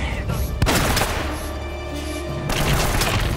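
Gunfire in the video game Uncharted: Drake's Fortune Remastered, a loud burst of rapid shots and heavy impacts filling the mix, with a sharp crack near the start and a second volley toward the end.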